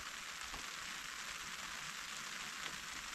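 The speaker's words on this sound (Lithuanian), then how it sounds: "Tikiuosi čia trumpai tas lietutis užėjo." Light autumn rain falls during fishing on the Kaunas Reservoir, making a faint, even patter and hiss that continues steadily with no voices.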